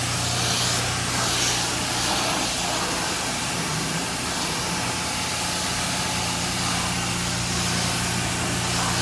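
Loud, steady hiss of a water sprayer rinsing soapy water off a Honda Fit, continuous throughout, with a low engine hum underneath.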